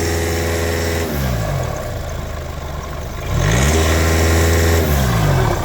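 A VAG car engine idles roughly, its pitch sagging and rising as the revs hunt and stumble, close by with steady mechanical whir throughout.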